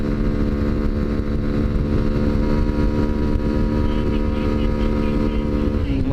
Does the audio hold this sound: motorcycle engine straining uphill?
yes